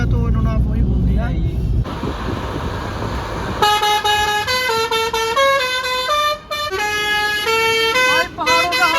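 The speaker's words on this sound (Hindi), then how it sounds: "भाई पहाड़ों का हॉर्न सुनो" Repeated vehicle horn blasts, loud and close, honking in several bursts over a low engine rumble in the mountains of Bani Valley, with a voice speaking early on.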